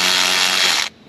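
A powered ratchet whirs loudly for just under a second while backing out a timing chain tensioner bolt, then cuts off abruptly.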